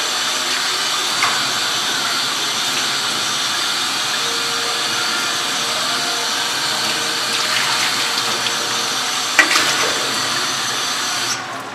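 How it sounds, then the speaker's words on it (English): Tap water runs steadily into a sink while squid is rinsed clean, a loud, continuous gushing splash with faint handling clinks and a brief knock near the end, no voices. "Rinse it until the water comes out clear and good to go."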